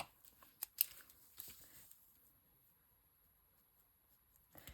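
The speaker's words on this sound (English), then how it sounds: "I'm going to write on here." A pen writes on a small handmade tag at close range, with a few quick faint scratches and light taps early on, then near silence.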